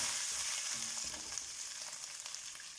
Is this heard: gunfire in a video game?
no